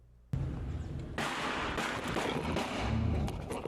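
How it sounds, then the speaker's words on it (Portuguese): A gunshot in Guarapari, a sudden loud crack that leaves a dense, rumbling burst of noise lasting several seconds. "É um barulho muito rápido e é um barulho de tiro"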